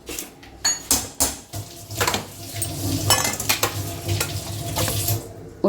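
Tomatoes and green coriander are stirred into poha in a pan, a spoon scraping and clinking against the metal in irregular strokes over a faint sizzle, with no talking.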